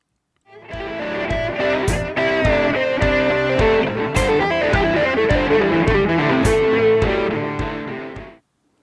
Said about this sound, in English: take a cool quintuplet figure and figure out how to play it on electric guitar